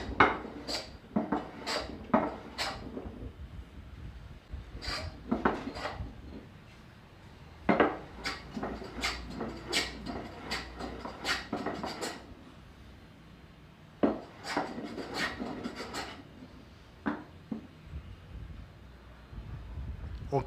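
A manual hand plane rounding over a wooden edge on a wobbly workbench: repeated short rasping strokes in bursts with pauses between, along with light knocks and clatter, fairly close.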